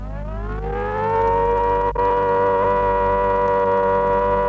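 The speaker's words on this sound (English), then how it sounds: "The siren on top of the fire station is the signal to the part-time volunteers to go into action." A fire station siren in Welwyn, 1970, calls part-time volunteer firemen to action: a loud wail winds steeply upward, then holds a steady, sustained tone close by.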